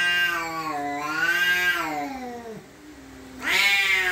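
Cat meows loudly and close, a long drawn-out wavering yowl followed after a short pause by another rising meow.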